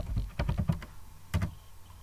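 Short run of keystrokes as a password is typed on a computer keyboard, a quick cluster of close, crisp taps followed by a pause and two more presses, heard alone with no talking.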